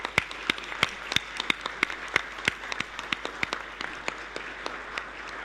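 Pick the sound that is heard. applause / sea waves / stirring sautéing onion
applause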